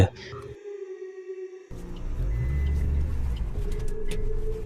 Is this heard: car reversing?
yes